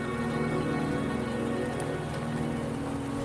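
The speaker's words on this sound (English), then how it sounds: "Don't worry, the rain won't last much longer." Rain falling in the video game Wuthering Waves, a steady, even hiss of drops pattering on surfaces, soft and continuous with a low background drone and no voices.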